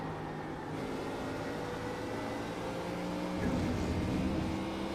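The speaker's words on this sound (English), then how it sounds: "I already hear his exhaust." A Mustang GT3 race car engine in the iRacing sim at the Red Bull Ring drones steadily with tonal exhaust harmonics, swelling louder toward the end as another car closes in.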